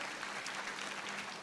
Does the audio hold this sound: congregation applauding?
yes